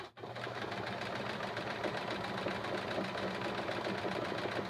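A sewing machine free-motion quilts a small feather stitch, running in a fast, steady, even whir with rapid needle ticking from start to finish after a brief pause at the opening.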